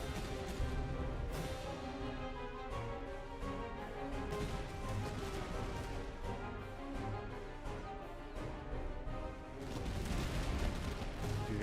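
Troops fire in a Master of Command battle, producing a dense, continuous rumble of distant volleys and crackling shots that holds steady, fairly faint and without speech.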